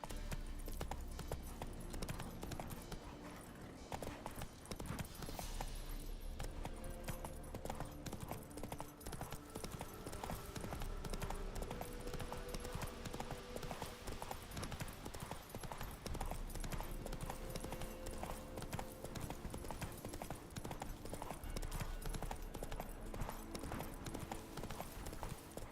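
Roach the horse galloping in The Witcher 3, a continuous fast rhythmic clip-clop of hooves over a long stretch, fairly quiet and steady, with an occasional faint voice and game ambience underneath.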